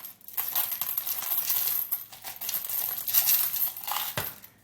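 Many pennies pour and clink together into a plastic bag in a rapid jangling cascade, close by, with a soft crinkle of plastic.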